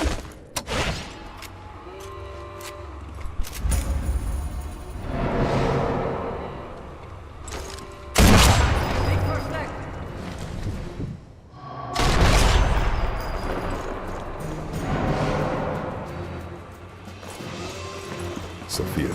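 Gunfire in the Sniper Elite 4 war video game, heavy booming shots and bursts in loud waves mixed with game music and effects, a voice speaking over parts of it.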